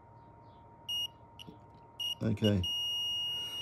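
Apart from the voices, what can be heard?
multimeter continuity test beeping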